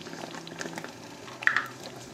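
Water boiling in a pot for spaghetti gives a soft, steady bubbling and faint patter, quiet and close, with a brief louder burst of bubbles partway through.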